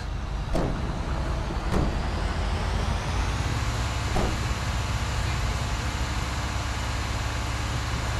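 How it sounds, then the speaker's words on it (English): Garbage truck driving in Grand Theft Auto 5, a steady low engine rumble and road noise with a few brief sharp clicks early on, moderately quiet and without talk. "I just stole a garbage truck!"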